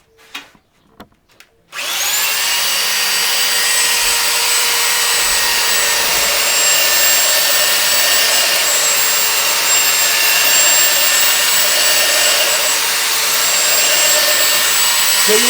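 A small belt sander grinds steadily against the corner of a wooden board, a loud, continuous whir with a sanding rasp that runs unbroken after a few quiet knocks at the start.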